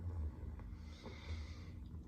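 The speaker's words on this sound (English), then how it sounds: "Is there like no better music than Ozzy Snoring?" A pet dog snores faintly and close by, with slow, rhythmic rasping breaths and soft snorts repeating a couple of times in a quiet room.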